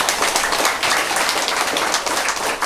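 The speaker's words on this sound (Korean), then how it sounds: "하나님께 영광의 박수 한번 드립니다." Applause from a church congregation during a worship service, a steady wash of many hands clapping together for the whole stretch, fairly loud and without voices over it.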